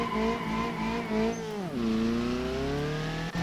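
A Toyota Supra MK3 A70 drift variant slides on dirt in the video game BeamNG.Drive: the engine drones steadily at high revs, drops pitch and settles into a lower, sustained tone mid-slide, with no talk.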